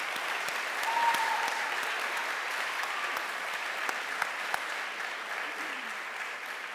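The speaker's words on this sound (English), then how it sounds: "Can you all join me in giving them a round of applause?" A college audience applauds two students after their first debate, a steady, even patter of many hands clapping in a hall, sustained at a constant level with a faint tonal sound briefly in the background.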